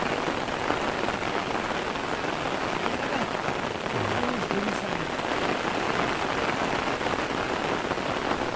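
Steady rain pours down in Kumbhavade, a Konkan village in Rajapur, Ratnagiri, during the first rain of the season, a dense, even hiss of drops on surfaces with no voices.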